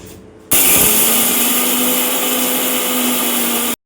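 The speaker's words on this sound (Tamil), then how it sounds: "ஃபைனலாக உடச்சக்கல்லை சேர்த்துட்டு இந்த ரெண்டுத்தையும் வறுத்துட்டு ஆற வச்சுட்டு மிக்ஸி ஜாரில் சேர்த்துட்டு அரைக்க வேண்டியது தான்" Mixer grinder blending roasted urad dal and roasted gram, a loud steady whirring hum that starts abruptly, runs continuously for about three seconds, then cuts off.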